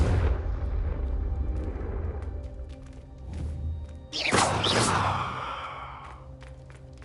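A Confringo blasting spell in Hogwarts Legacy goes off in a sudden loud burst and crackling boom after quieter ambient sounds, then fades out.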